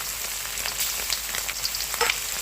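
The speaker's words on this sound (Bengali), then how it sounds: "আর এদিকে কড়াইতে তেল দিয়ে দিয়েছি। এখন আমি মাছটা ভেজে নেব।" Pieces of rui fish fry in hot oil in a wok with a dense, crackling sizzle, close and fairly loud, with scattered sharper pops and a brief spattering burst near the end, no voices.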